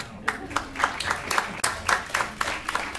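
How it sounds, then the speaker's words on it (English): Sparse, uneven hand claps from a handful of people at a school board meeting, close and fairly quiet, with distinct individual claps rather than a full ovation. "so that deserves an applause"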